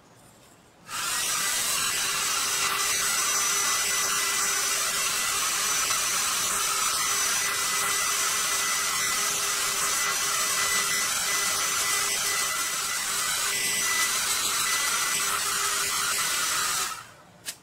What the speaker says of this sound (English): blow the hairdryer into the bowl, and toss it gently